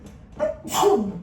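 A single sneeze indoors, a short sharp sound with a quick breathy intake then a strong burst, close and fairly quiet, in a calm therapy office.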